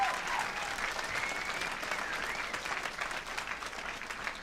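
Comedy club audience bursting into sustained applause, a dense, even wash of clapping from a large crowd that holds steady for several seconds with no talk over it.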